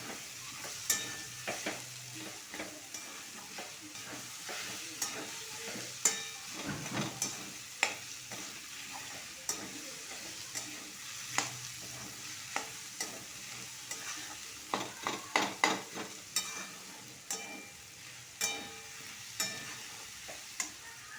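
Two large onions sautéing quietly in a pan, with a soft continuous sizzle and irregular clacks and scrapes of a spoon stirring nearby, clustered in bursts, no talking.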